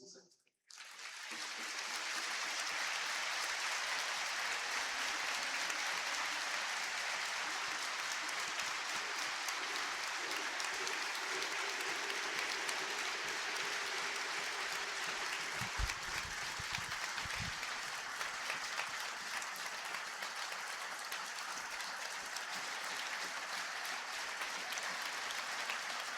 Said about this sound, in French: Vous invitez à lui rendre un hommage appuyé en respectant une minute d'applaudissement, s'il vous plaît.